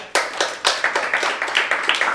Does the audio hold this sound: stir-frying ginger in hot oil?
no